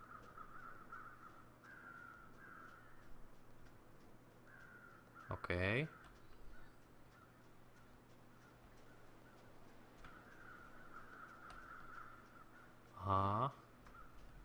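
Crows caw in the wilderness of the survival game The Long Dark, two distinct bursts of harsh calls several seconds apart over a quiet ambient drone, with someone talking briefly.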